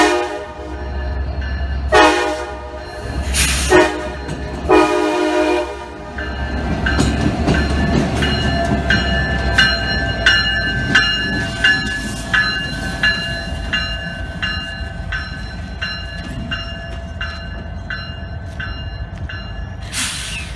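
Norfolk Southern locomotive 1706 reverses onto another track in North Jersey. It opens with several loud horn blasts, then a long, close, steady rumble and squeal of moving rail cars and wheels, with no talking.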